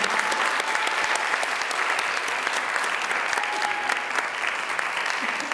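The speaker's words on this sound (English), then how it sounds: "Let's give all of the ladies a warm round of applause." An audience at a university pageant gives the contestants sustained, even applause, a continuous wash of clapping from a sizable crowd.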